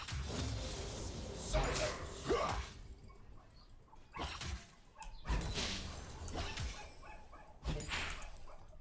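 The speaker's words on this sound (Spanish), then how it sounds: "el perro, lo han dejado ahí atado y no para de ladrar" Tied-up dog barking repeatedly at a distance, several sharp bursts at irregular intervals, faint under someone talking nearby.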